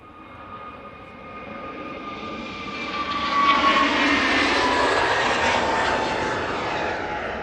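A Pegasus Airbus A320neo jet roars down the runway on its takeoff roll, a loud broadband engine rush with a sliding whine that swells steadily and holds near.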